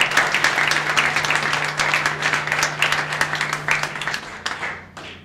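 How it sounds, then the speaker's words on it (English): A room full of people at a sports broadcasters' gathering applauds a Detroit Red Wings general manager, dense clapping sustained for several seconds before tapering off to a few final claps. "nice round of applause for the Detroit Red Wings General Manager, Kenny Holland."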